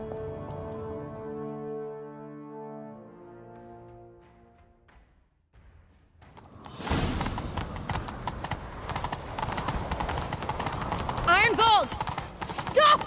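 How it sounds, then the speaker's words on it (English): Horse hooves galloping in The Witcher 3, starting after a soft musical tone and a brief silence, then fast continuous clip-clop with rustle and a whinny-like cry near the end. "Grab a horse, we'll chase him down."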